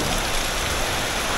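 Heavy rain pours steadily in Nha Trang, a dense, unbroken hiss of downpour beating on surfaces close by, loud and constant with no voices over it.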